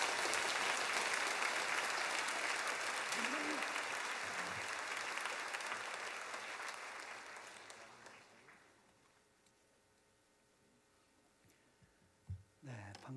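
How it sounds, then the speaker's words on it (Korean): A church congregation at an autumn special dawn revival service claps to welcome a missionary from Indonesia, a full roomy wash of applause that gradually fades to quiet, followed by a few faint bumps and a voice starting to speak. "우리 이영규 선교사님 인도네시아에서 오셨는데 박수로 환영하겠습니다"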